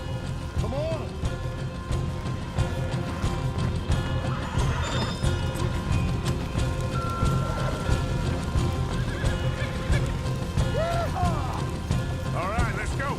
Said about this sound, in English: Looky here, you get them horses free, Arthur.